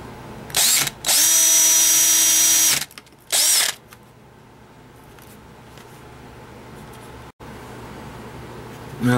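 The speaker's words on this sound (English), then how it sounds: "this bigger drill bit to knock out the head of the rivet" A power drill whines loudly in two bursts, a short one and then a longer one of about two seconds, drilling out a rivet head on a Matchbox Mercury Wagon toy car, followed by quieter clinks and shop noise.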